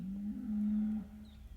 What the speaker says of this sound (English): Yeah, he's bellowing down there